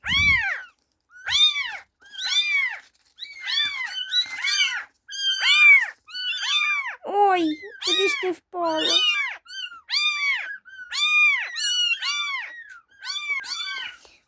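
Several kittens meow repeatedly in a farmyard, their high, rising-and-falling cries coming one after another across the whole stretch, close and fairly loud, with a brief spoken word near the start.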